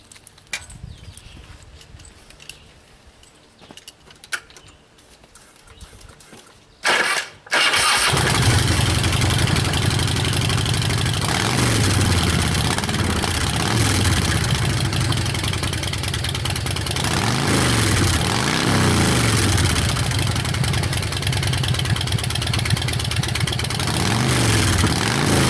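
A 1989 Harley-Davidson FXST 1340 Softail with short staggered Vance & Hines mufflers cranks over after a few quiet seconds, then settles into a loud, steady, lumpy idle that keeps going for about eighteen seconds, with no voices.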